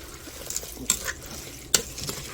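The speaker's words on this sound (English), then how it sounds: "And let's go ahead and give this a stir" Ham and lentil soup stirred in a pot over an outdoor bushcraft setup, a few soft scraping strokes with two sharper clinks of the spoon against the pot, close and quiet, no talking.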